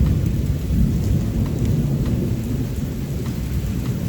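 Thunder rolls in a continuous low rumble during a warm rainstorm, rain falling steadily on surfaces throughout, with scattered drops ticking close by.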